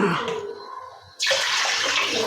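Water pours steadily into a container, a loud rushing splash that starts abruptly and continues, following a few seconds of quieter kitchen handling noise.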